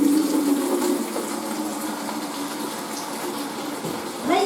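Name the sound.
water poured into a bowl with washing-up liquid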